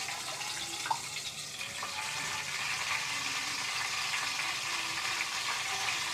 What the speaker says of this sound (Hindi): ज़ीरा और कलवंजी को सिर्फ हम 2 से 3 मिनट्स इसे हम फ्राई करेंगे।